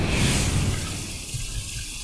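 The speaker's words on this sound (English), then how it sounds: "Warm water rinse, cold water rinse" Tap water runs into a sink during a warm and cold rinse after a shave, a loud, close, steady splashing rush that eases slightly toward the end, with no voices.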